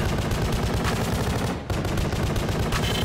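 Rapid-fire gunfire in the video game The Pony Factory, a dense, continuous automatic burst that runs loud throughout, with one brief break midway.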